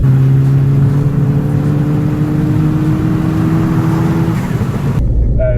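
A stage 2 tuned Ford Fiesta ST engine pulls hard through the gears, its droning tone climbing steadily and loud and close throughout, then cutting off abruptly near the end.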